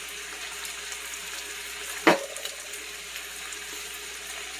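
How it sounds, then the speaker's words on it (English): Tomato paste and garlic fry in a pan with a steady, moderate hiss, broken once by a single short clatter near the middle. "you're going to want to let this fry for about 1 minute"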